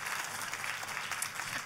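Brief steady applause from a church congregation, a dense even patter of clapping hands lasting under two seconds with no voices over it.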